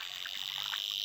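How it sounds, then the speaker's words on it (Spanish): Cicadas and crickets chirp beside a river, a dense, steady high buzzing drone with soft croaking calls underneath, heard with no voices. "Son las chicharras. Aquí le decimos chicharras, las cigarras"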